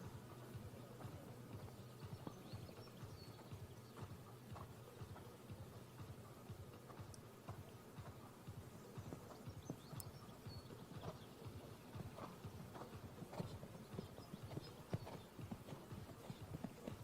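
Horse hooves thud in a steady rhythmic canter during a dressage test at an eventing competition, faint and distant across the arena with soft background ambience.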